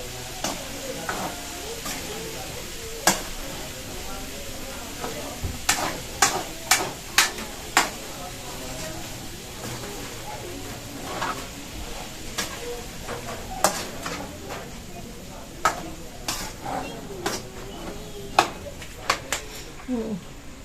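Pork giniling with potatoes and carrots being stirred in a pan, giving scattered sharp utensil scrapes and taps over a low steady sizzle, close and moderately loud.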